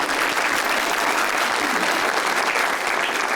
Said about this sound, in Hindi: उनके पीछे वाले ने जो ताली बजाई है ना